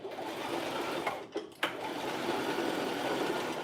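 A sewing machine stitches hair rolls onto a wig, running at a steady, continuous whir with a brief pause and restart partway through.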